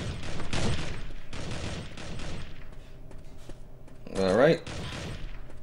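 An AK-47 fires in bursts in the Mask Gun shooter game, with two loud rapid volleys early and another near the end. A voice speaks briefly over the gunfire.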